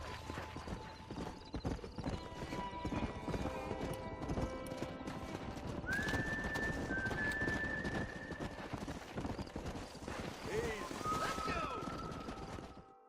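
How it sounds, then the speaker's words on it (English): Horse hooves clip-clop steadily in the Red Dead Redemption video game, a continuous trotting rhythm up close, with a horse whinnying and other game sounds layered underneath. "We got some fine horses"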